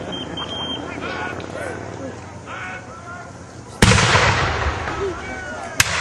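Massed musket volley from a British line of infantry at a battle reenactment of the siege of Fort Erie, one sharp loud crash of fire with a later lone shot, under continuous narration and crowd sounds.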